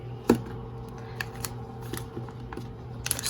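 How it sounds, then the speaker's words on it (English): Scissors snip the backs off small metal craft brads, giving a few sharp, close clicks spaced through a quiet room. "And I just cut the back of the brads off."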